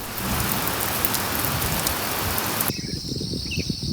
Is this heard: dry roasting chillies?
no